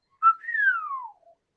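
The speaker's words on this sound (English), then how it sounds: "It was a really good whistle." A person whistles a single clear note that slides smoothly downward after a short opening chirp, ending with a faint low tail, alone in a quiet room.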